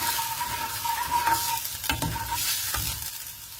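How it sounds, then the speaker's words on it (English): Spoon stirring tomato puree with curry leaves in a hot pan for masale bhaat and tomato saar, steady scraping strokes over a continuous sizzle, close up with no voices. "Mix it well."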